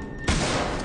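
Gunshot in the horror video game Alien: Isolation, a single loud, close blast that cuts in abruptly and stays heavy to the end of the short moment.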